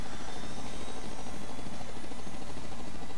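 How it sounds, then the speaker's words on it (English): A helicopter in the Scribblenauts Unlimited video game gives off a steady, loud rotor and engine roar that stays constant throughout, with no talking over it. "helicopter."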